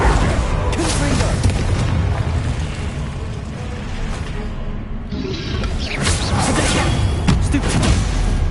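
The Confringo blasting spell in a Harry Potter video game gives dense, loud, booming explosive rumbles and whooshes that run throughout, with a voice calling out over the blasts.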